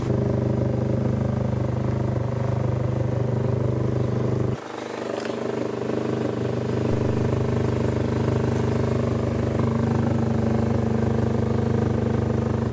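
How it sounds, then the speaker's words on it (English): A Toyota MR2 with a carbon fiber aero kit idles loudly at close range with a steady low engine drone, dips briefly, then carries on running as it sets off. "I just want to take the MR2 for a little drive"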